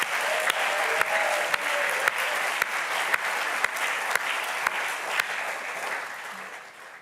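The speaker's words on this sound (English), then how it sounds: "Can we show one more round of applause to the entire confirmation class?" A church audience at a confirmation service claps for the confirmation class, a steady, full round of applause with a few sharp louder claps, tapering off at the end.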